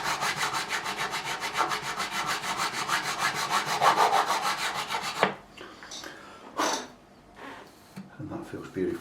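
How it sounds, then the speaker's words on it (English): A crowning file strokes back and forth along a guitar fret in fast, even rasping passes for about five seconds, close and clear, then stops, leaving scattered handling noises and quiet breathing. "this is just to put that crown back in the fret, where I flatten the top there"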